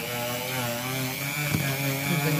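A lathe turning a book at slow speed for a book safe project, giving a steady, close motor hum with a constant droning tone that holds through the whole stretch, with a slight bump midway.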